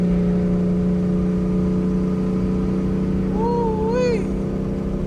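Chevrolet Camaro ZL1 engine idling loudly and close, with a steady low drone and a brief rising rev near the end.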